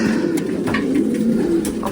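Racing pigeons coo softly at their loft after a 720 km competition flight, a low continuous murmuring with a few faint flutters and bird sounds close by.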